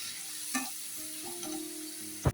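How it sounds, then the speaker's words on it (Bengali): A spice paste of cumin powder, turmeric and chili powder sizzles in hot oil while a utensil stirs it, with steady frying hiss, a few scraping strokes and a sharp clink near the end. "দিয়ে আমি মশলাটা ভালো করে কষিয়ে দিই।"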